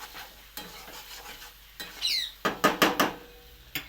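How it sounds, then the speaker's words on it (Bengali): Mutton skin and leg curry stir-fried in a pan, with a spatula scraping and clanking against the metal in short bursts over a soft, steady sizzle, close and moderately loud, no voices. "এইভাবে হালকা হালকা করে দশ মিনিট আমি কষাবো"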